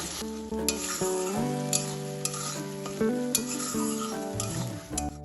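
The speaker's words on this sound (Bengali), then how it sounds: "তেলের সাথে মশলাটা ভালোভাবে কষিয়ে নেব।" Spice paste sizzles and crackles steadily as it is sautéed in hot oil for a Bengali banana-stem mash, with occasional stirring scrapes and a tonal musical backing throughout.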